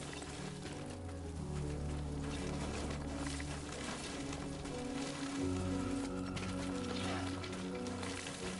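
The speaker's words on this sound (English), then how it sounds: "Oh, shit, rain." Steady rain falls in the Death Stranding 2 video game, a constant soft hiss under a low droning musical score that continues throughout.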